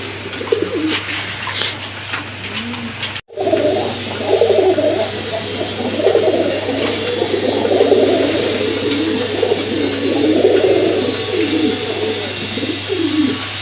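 A pair of red Rajgolla fancy pigeons coo repeatedly at close range, their low throaty calls rolling in overlapping bursts over a steady background hum, with one abrupt brief dropout early on.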